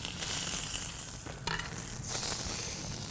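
A thick bone-in ribeye steak searing its fat edge on a hot Lone Star Grillz grill, giving a continuous close sizzle with brief crackling bursts and no talk.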